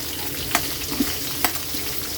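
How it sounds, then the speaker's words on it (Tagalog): Onions sautéing in hot oil for La Paz batchoy, a steady close sizzle with a few soft stirring clatters. "Gigisahin na natin kaili yung sibuyas."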